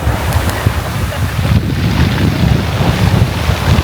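Atlantic Ocean surf on the coast of the Ring of Kerry in Ireland, a loud continuous rush of waves mixed with strong wind buffeting the microphone.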